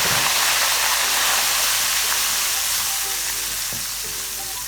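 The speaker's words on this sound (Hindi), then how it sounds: "सूजी बहुत गर्म हो जाती है तो इसको ज़रा मीडियम आंच पे हम इसको फ्राई करेंगे" Semolina frying in hot oil with green cardamom for suji halwa: a loud, continuous close-up sizzle that fades slightly over the clip, with faint stirring underneath and no talk.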